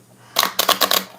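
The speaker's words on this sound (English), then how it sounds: "trying to shuffle up all these" Tarot cards being shuffled by hand, a quick burst of crisp riffling flutters lasting about a second, close and fairly quiet against a silent background.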